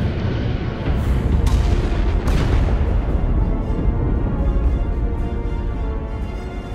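Starship weapons fire in Star Trek Resurgence, a couple of sharp discharges followed by a heavy, sustained rumbling barrage that gradually thins out.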